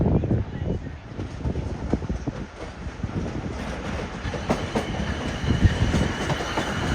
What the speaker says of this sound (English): This is a trio of 450s now coming in.